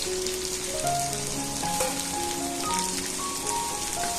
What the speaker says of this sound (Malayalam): പെരുംജീരകം ഒന്ന് മൂത്ത് വരുമ്പോൾ അതിലേക്ക് ഒരു വലിയ സവാള കട്ട് ചെയ്തത് ഇട്ട് കൊടുക്കാം.